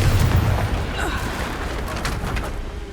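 A Confringo fire spell explodes in Hogwarts Legacy with a loud, rumbling boom up close, its low blast rolling out and fading over a few seconds amid game ambience.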